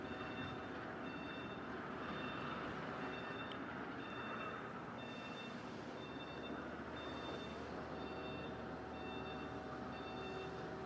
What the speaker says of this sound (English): there's a backup beeper on it